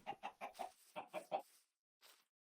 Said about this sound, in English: Chicken we were hearing